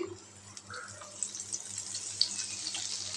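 Tap water runs steadily while a cooking pot is washed in a home kitchen during motichur laddu preparation, giving a continuous moderate hiss with faint splashes and no talking.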